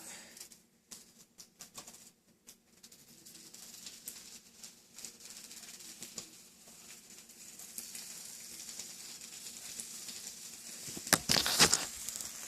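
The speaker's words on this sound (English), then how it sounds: "So you put the bacon in the pot" Bacon frying in a pot: faint, sparse crackles and pops sizzle quietly, thickening into a louder spattering burst near the end.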